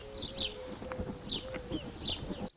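Small birds chirp in short, repeated bright calls at a dried-up reservoir, fairly distant and faint over a low outdoor background with a steady hum, the calls recurring in loose bursts.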